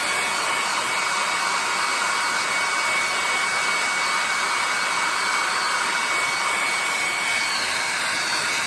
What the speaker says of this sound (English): let me get my hair dryer again